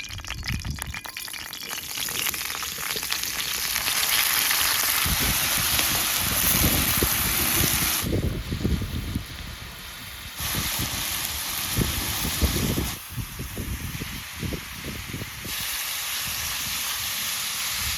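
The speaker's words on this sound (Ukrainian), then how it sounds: "тепер оці нарізані ми висипаємо на розігріту сковорідку" Continuous crackling sizzle of sliced mushrooms frying in a hot pan, loud and dense, with the hiss pulsing stronger and weaker in stretches.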